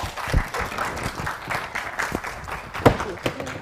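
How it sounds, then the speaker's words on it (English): Audience applause at a book launch on making TVET work in Kenya, a scattered, moderate round of clapping with a few sharper claps standing out, mixed with faint room murmur. "Can we give them another round of applause?"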